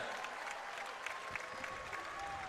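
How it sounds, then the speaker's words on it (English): Applause from the crowd at an NBL Blitz basketball event fills the arena with a dense, steady crackle of clapping, moderately distant and without pauses. "Round of applause, Cal Bruton!"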